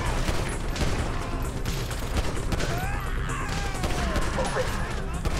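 Dense gunfire from soldiers and armed forces in Grand Theft Auto V, a near-continuous fusillade of shots and impacts with a crash, layered under frantic talk.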